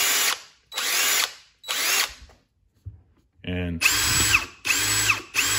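A Ryobi P238 brushless impact driver runs in several loud, close bursts of roughly a second each, separated by short pauses, with a brief clicking mechanical sound in one gap.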